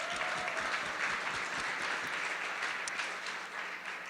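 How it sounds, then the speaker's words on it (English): Audience applause after partners are thanked at a panel discussion, a dense steady wash of clapping from a large crowd throughout, loud and continuous before easing slightly near the end. "So let's give a round of applause for our partners."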